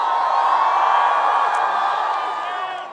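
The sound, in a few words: rally crowd cheering for Jane Sanders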